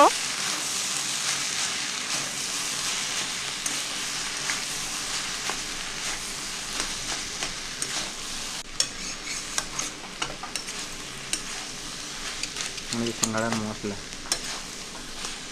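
Chopped banana flower (kolar mocha) frying in a pan as it is stirred after the lid comes off, a steady sizzle with scraping spoon strokes and occasional clinks against the pan, close and continuous.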